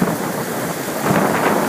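Loud Queensland thunderstorm, with heavy rain hammering down and a low rumble of thunder swelling through the steady downpour.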